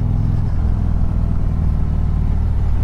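A 2019 Harley-Davidson Street Glide Special 114 motorcycle is ridden along a sweeping road near Beachy Head, its engine a close, deep, steady rumble mixed with wind noise, without speech.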